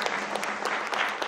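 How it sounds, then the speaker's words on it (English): A church congregation applauding, a dense, even patter of many hands clapping at close range without pause. "I don't know if you're clapping for that or not"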